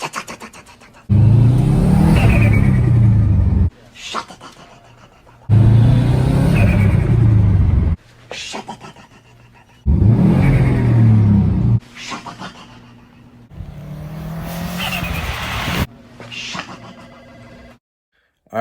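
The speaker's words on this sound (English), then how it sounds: "Really cool sounds for sure from the Subaru" A Subaru WRX STI exhaust roars through repeated loud revving bursts, each blip rising and holding before cutting off, with deep rumbling gaps and crackle between the pulls, close to the tailpipe.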